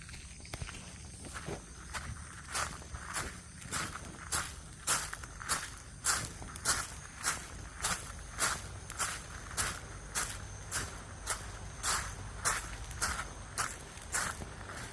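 Steady, evenly paced barefoot footsteps, soft and close, land one after another on a hard surface with a faint insect-like hiss behind them.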